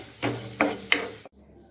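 Mixed vegetables with salt stirred in a hot pan, three scraping, sizzling strokes close up, then a sudden drop to near silence.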